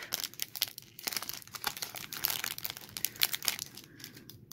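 Plastic wrappers of Pokémon 25th anniversary celebration card packs crinkle and tear up close, in quick, irregular bursts of sharp rustling that keep going throughout, with no talking.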